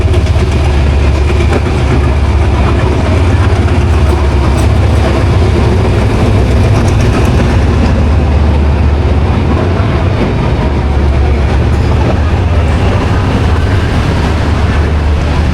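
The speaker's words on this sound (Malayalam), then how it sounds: "കാണുന്നതാണ് നമ്മുടെ ട്രെയിന്" A crowded passenger train rolls into Kuala Lumpur station, a loud continuous low rumble of wheels and engine with faint rhythmic clatter throughout, no voices.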